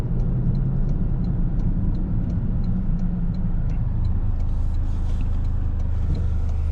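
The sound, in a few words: Toyota GR Corolla accelerating hard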